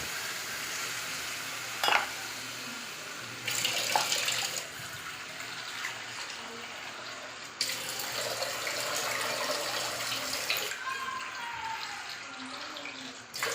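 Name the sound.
water poured into cooking pan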